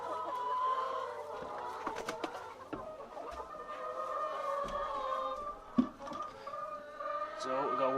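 Hens cluck softly and intermittently close by, one laying in an electrics box, with scattered rustling and a brief sharp knock partway through.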